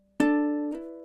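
Ukulele bar chord plucked once for a song, a bright ringing strum after a short hush, sustaining and fading, with a faint shift in the ringing near the end.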